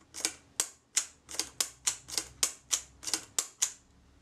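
A Kodak Retinette type 012 camera shutter, French market version, fires about a dozen times in a row: crisp, close mechanical clicks at a fairly regular pace, with no talk.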